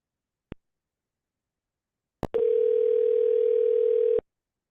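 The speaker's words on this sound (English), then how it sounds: "At the tone, please record your message" A voicemail recording tone on a phone call: a soft click, then a single steady, loud beep held for about two seconds before cutting off cleanly, with no talk.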